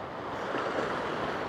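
Steady ocean surf washing near a kelp bed where someone is fishing, a continuous broadband rush of waves with wind noise, no talking.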